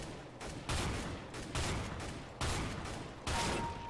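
Gunfire in the video game CS:GO comes in four sharp bursts spaced roughly a second apart, each a dense rattle of rapid shots that fades before the next.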